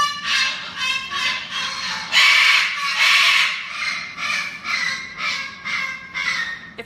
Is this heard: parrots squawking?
yes